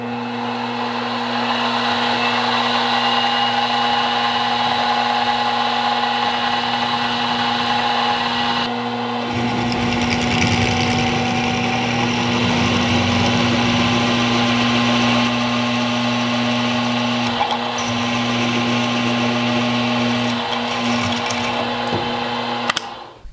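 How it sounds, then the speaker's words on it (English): A center drill boring holes in metal brackets for Afco coilover mounts on a Locost 7 kit car, a steady high-pitched machine whine running continuously near and loud, its tone shifting partway through, with no talking. "Center drill these holes up."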